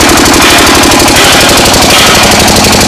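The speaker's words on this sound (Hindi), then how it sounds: "आप देख सकते हैं जनरेटर हिल भी नहीं रहा है और 1500 आरपीएम पे जनरेटर चल रहा है।" A generator runs at full load at 1500 rpm on a generator factory floor in Agra, India, producing a loud, steady engine drone with a fast, even pulsing throb throughout and no talking.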